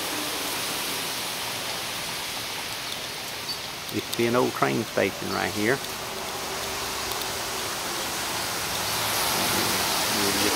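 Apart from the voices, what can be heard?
rain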